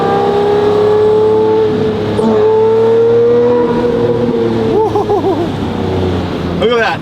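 A manual Lamborghini Murcielago LP's engine revs up and settles with rising and falling howls, loud and close, while voices talk over it throughout.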